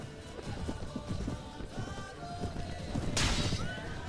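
A horse whinnies amid a medieval battle in the Warband mod Prophesy of Pendor, a brief high call rising out of dense clatter, hoof noise and clashing combat.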